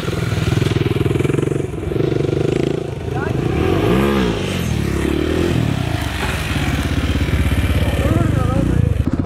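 A KTM motorcycle engine drones loudly and steadily nearby, its pitch rising and falling with throttle changes, while people talk over it.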